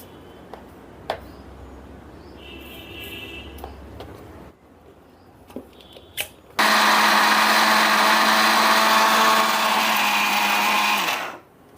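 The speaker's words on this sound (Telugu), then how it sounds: "ఇప్పుడు ఈ మొత్తాన్ని చల్లారిన తర్వాత మిక్సీలో వేసి పొడి చేసుకుందాం" A mixer grinder whirs loudly and steadily as it grinds cooled roasted spices with cumin and salt into chili powder for bitter gourd fry, after a few quiet clicks and knocks, then winds down.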